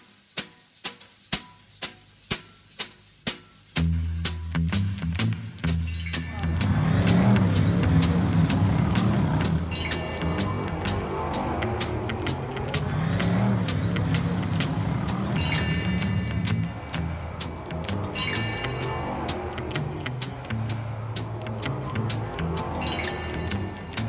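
Stock car racing engines at an amateur track in Blauwhuis, a steady roar of several motors under regular rhythmic beeps, preceded by a few sharp beeps on their own.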